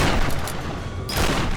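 Gunfire in the Tomb Raider video game: a burst of loud shots in quick succession filling the whole moment, with a brief lull before more fire.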